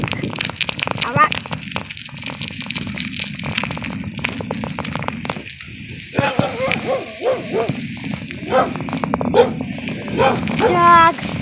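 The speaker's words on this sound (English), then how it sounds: "There's a lot of dogs here." Several dogs barking and yipping at varying distances, with rapid repeated barks and whimpers, heard during a bike ride while people talk close by.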